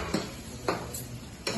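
Spoon or ladle clinking against a pot while egg biryani ingredients are stirred together, three distinct knocks spaced apart over a low steady kitchen background.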